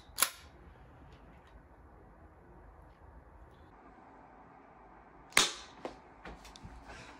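Two sharp BB gun shots crack nearby, one at the start and one later, each followed by faint snaps and small impacts over a quiet indoor background.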